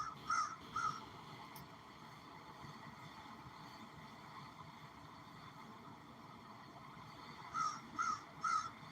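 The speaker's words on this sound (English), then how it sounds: "Did you just hear that crow?" A crow caws twice, falls silent for several seconds, then caws three more times in quick succession, faint and somewhat distant over a quiet background.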